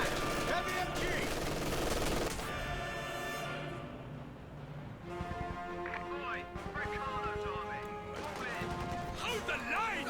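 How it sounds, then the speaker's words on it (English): MG42 machine gun suppressive fire in the Company of Heroes 2 strategy game, with bursts of rapid rattling shots and other battle crashes under a commentator's voice, fairly faint and intermittent, with gaps and sustained tones in between. "MG42 has rotated on over, and we'll get some suppression there now"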